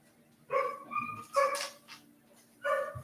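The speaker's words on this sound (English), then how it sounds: "you could hear my dog in the background" A dog barks in the background, four distinct yips or barks spaced over about three seconds, fairly clear with nothing else competing.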